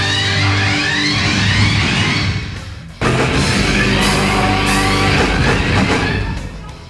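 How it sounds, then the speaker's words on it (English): Closing section of a song, dense full-band rock music that drops briefly, then a short synth passage and the rest of the outro before it cuts off. "There's that short synth bit and then it just ends."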